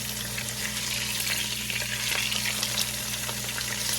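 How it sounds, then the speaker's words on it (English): Thin ribeye steaks fry in a pan, giving a constant close sizzle with scattered crackles over a low steady hum. "we're just gonna fry these steaks up"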